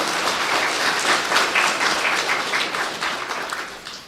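An audience claps continuously at a spiritual gathering, a dense sustained wash of applause that slowly fades toward the end.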